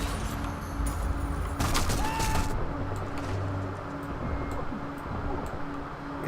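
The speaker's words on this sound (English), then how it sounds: "this SMG's a bit weak compared to that last one I was using" Submachine gun fire in the video game Sniper Elite 4: a dense burst of shots clustered mid-clip over a steady, busy background of game ambience.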